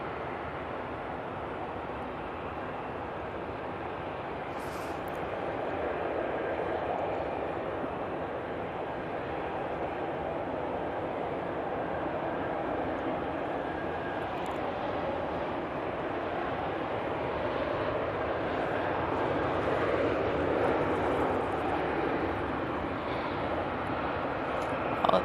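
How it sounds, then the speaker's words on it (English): An Austrian Airlines Embraer jet arriving from Vienna on approach to land at Manchester Airport, a faint distant engine rumble slowly swelling over the clip, with no talk. "Austrian Embraer now coming in."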